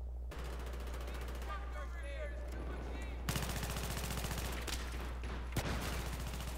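Gunfire from a Battlefield co-op match with a PP-19 in close quarters, rapid bursts of shots ringing out, mostly in the second half, under ongoing game noise with voices talking over it.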